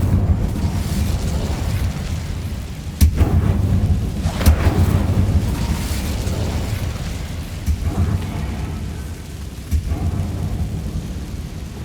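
Incendio fire spell cast in the game Hogwarts Legacy, a deep roaring whoosh of flame with booming bursts near the start and middle, rumbling on under other game effects.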